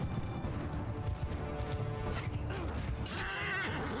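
Horse hooves clop in the battle din of Mount & Blade II: Bannerlord, with a whinny rising near the end amid a busy, fairly quiet mix of game sounds.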